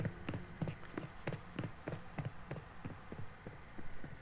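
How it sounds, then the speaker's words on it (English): Approaching footsteps in the Fortnite video game, a steady run of evenly spaced thuds about three per second, fairly close and clear over a low hum with no talk. "Hearing footsteps, you have no idea where they are"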